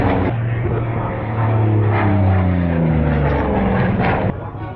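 A record-setting racing aircraft powered by a 1,950-horsepower R2000 radial engine from a de Havilland Caribou roars past at an air show, a loud, close propeller drone with shifting pitch that swells and then fades slightly.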